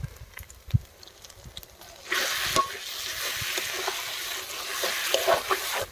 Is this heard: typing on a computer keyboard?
no